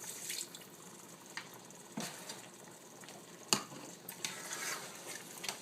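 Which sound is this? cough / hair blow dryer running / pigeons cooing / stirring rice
stirring rice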